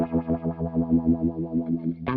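An OBNE Float dual moving filter pedal in band pass mode puts a rapid pulsing wobble on a sustained guitar tone, the throbbing steady and loud throughout until a brief sharp burst at the end, with no voices.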